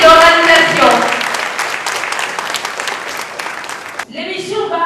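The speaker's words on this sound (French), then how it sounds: "on applaudit très fort le comité d'organisation" Loud studio audience applause for the organizing committee on a French spelling-contest TV show, starting over the tail of a host's voice and fading after about four seconds as speech resumes.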